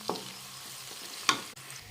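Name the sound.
onion and asafoetida added to hot oil, sizzling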